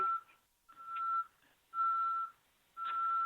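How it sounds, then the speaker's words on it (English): A vehicle backing up sounds four evenly spaced electronic reversing beeps, each about half a second long, clear and steady against near silence. "You're beeping. Someone's backing up near you."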